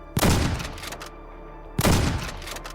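Two heavy gunshots ring out from a gun in a Minecraft zombie mod game, each a sharp loud blast with a booming tail, spaced about a second and a half apart.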